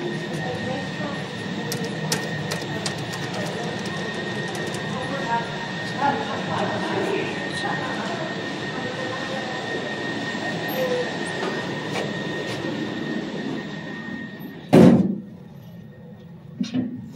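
An MEI roped hydraulic parking elevator at the Woodruff Arts Center in Atlanta descends with a steady hum and faint rattle, ending in a brief loud thump near the end as it stops.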